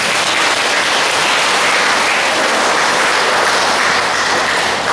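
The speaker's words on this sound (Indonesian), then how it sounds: "Kita beri tepuk tangan untuk mereka." A church congregation applauds during a First Communion mass at a Catholic parish in Pemalang, producing a dense, steady roar of clapping that continues unbroken and loud throughout.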